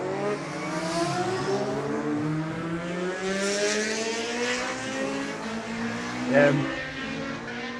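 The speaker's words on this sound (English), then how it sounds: "750 Kawasaki sound lovely leaving the line here" A Kawasaki 750 racing motorcycle pulls away from the start line at a road race, its engine revving up through rising, overlapping tones that are loud and fairly close, with a commentator talking over it.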